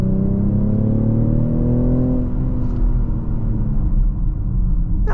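A 2023 BMW X6 40i's heavy-car six-cylinder engine pulls steadily, its tone climbing then settling into a constant low rumble heard from inside the cabin, with no talking.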